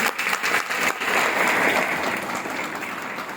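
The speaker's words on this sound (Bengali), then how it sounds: "এনাদের জন্য ফাটিয়ে ফাটিয়ে ফাটিয়ে হাততালি।" An audience at a corporate marketing event applauds loudly, a dense wash of clapping that swells and then gradually thins out.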